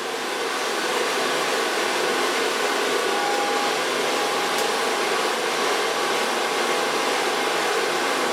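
A hair dryer blows steadily and loudly up close while hair is styled with a medium brush, a constant rushing whir with no break and no talk.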